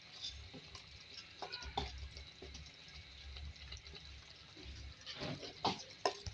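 Fried chicken and potatoes are stirred in a clay karahi, a spoon scraping and knocking against the pot over a soft, low sizzle, with sharper clinks near the end.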